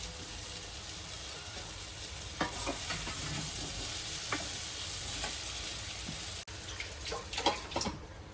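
Pumpkin pieces fry over a medium flame, giving a steady soft sizzle with occasional stirring clicks and scrapes, close and without speech, followed by a brief dropout near the end.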